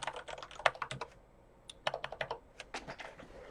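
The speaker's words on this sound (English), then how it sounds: "Typing is hard, especially when lots of people are watching you." Computer keyboard typing while setting up a Laravel Nova package, in quick irregular bursts of close key clicks with short pauses between, no talking.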